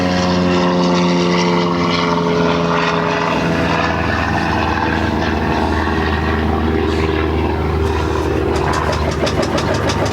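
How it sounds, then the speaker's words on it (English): A propeller airplane flies overhead, giving a loud, continuous droning engine roar that fills the whole stretch with no talking. "Now we got airplanes."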